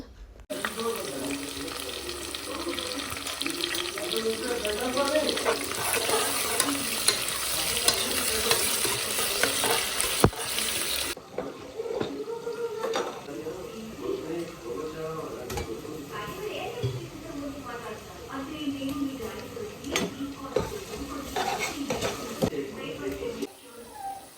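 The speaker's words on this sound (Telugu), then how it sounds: "డీప్ ఫ్రై అయ్యే వరకు ఆనియన్స్" Onions, chilies and masala paste deep-frying in oil on a new gas stove while being stirred, a steady loud sizzle with scraping stirs, running on for the whole stretch.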